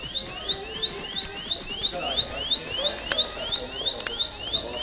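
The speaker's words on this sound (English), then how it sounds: "I'll explain that we accidentally set off the alarm." A store security alarm sounds inside a Big W department store, a repeating electronic tone sweeping rapidly upward in steady cycles, loud and continuous over faint background noise.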